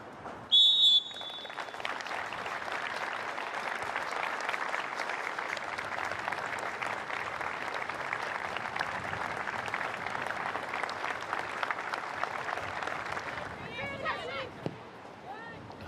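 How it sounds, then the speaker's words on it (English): Football crowd at a Portsmouth v Charlton Athletic women's match gives a sustained minute's applause tribute before kick-off, a dense, even roar of clapping that follows a referee's whistle and fades near the end, with a commentator speaking over it. "ahead of kick-off, a tribute will be paid with a minute's applause"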